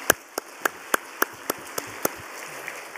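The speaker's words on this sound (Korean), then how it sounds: "뜨거운 박수로 우리 환영하십시다" Sparse, evenly spaced claps ring out in a church during a special evening service as guests are welcomed, eight or nine separate hand claps rather than full applause, fairly distant in a quiet hall.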